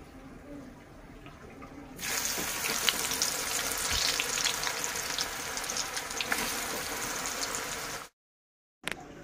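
Colocasia leaf fritters (aloo wadi, arbi patra) frying in hot oil, a dense, steady crackling sizzle that starts abruptly, holds loud and close for several seconds, then cuts out briefly before returning.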